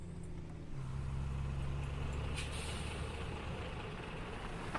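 A box truck drives on an Indian road, its engine droning low and steady close by after a brief shift, with a faint hiss and some passing traffic noise.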